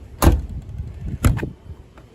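The door of a Mercedes 380SL, parked unused for 12 years, slams shut with a solid thud, followed by a second quieter clunk as the latch catches.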